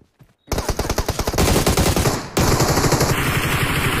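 Rapid automatic gunfire in PUBG Mobile, loud and close, with a burst of quick shots followed by sustained continuous firing and a second dense volley, no talk over it.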